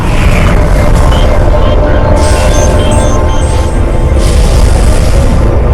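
A deep, rumbling boom sustains throughout, dense low-end roar with crackling texture, loud and continuous like a large explosion effect.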